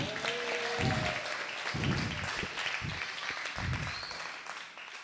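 An audience applauds at an Islamic boarding school event, a steady, moderate clapping from a crowd that continues throughout, with low thumping sounds mixed in.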